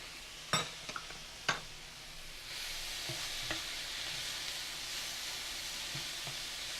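Garlic cooking in a pan for a pink sauce: a few sharp utensil clicks and scrapes at first, then a steady, close hiss of sizzling that continues to the end.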